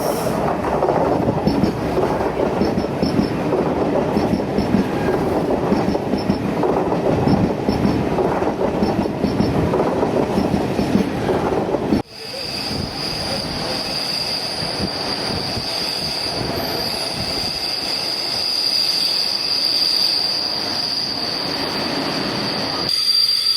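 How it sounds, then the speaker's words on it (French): An express train on a Czech international line rolls steadily along the rails at 140 km/h with a rumbling, rattling drone; midway the sound shifts to a quieter cabin hum with a faint high whine. "Notre express avance correctement à 140 km/h."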